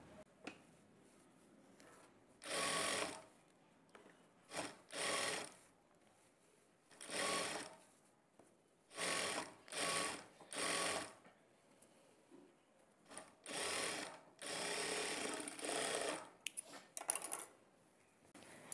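A sewing machine runs in short, close bursts while stitching a folded blouse lining. The quiet gaps between bursts are broken by faint handling clicks, and no one speaks.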